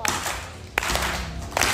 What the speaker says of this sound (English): let's help him out with a slow hand clap